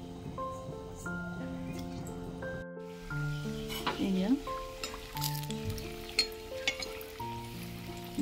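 Ghila pitha sizzling in hot ghee or oil in a pan, a soft frying hiss beneath steady background music with a voice talking now and then.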